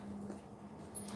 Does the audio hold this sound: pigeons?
no